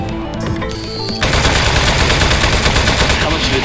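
Rapid gunfire from a desk-mounted weapon in the Aperture Desk Job video game, a dense, loud burst of shots that starts suddenly and keeps hammering without pause.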